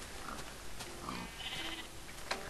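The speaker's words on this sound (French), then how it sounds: "Il y a vraiment beaucoup de moutons" Sheep bleat in a video game: several faint, scattered bleats over a steady game ambience, with no talk.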